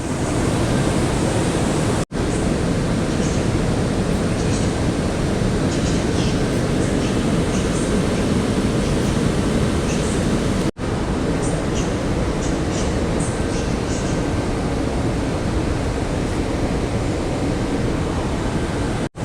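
A Berlin-Warszawa Express EIC train at Warszawa Centralna station gives a loud, steady rushing roar that runs on continuously, broken by two sharp brief cutouts, with no voices.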